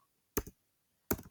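A computer keyboard is struck in two short clusters of crisp, close keystrokes separated by silence, each cluster a few quick clicks.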